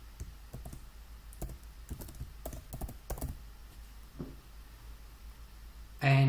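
A password is typed on a computer keyboard, sharp key clicks coming in short irregular bursts and then thinning out, followed by a brief louder sound at the very end.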